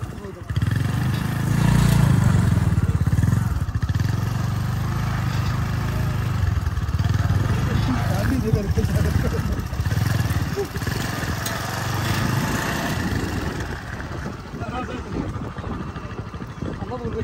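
Motorcycle engine droning steadily along a beach road at Muchapur sea beach in Noakhali, loud and continuous with low rumble and wind noise throughout, while people talk over it.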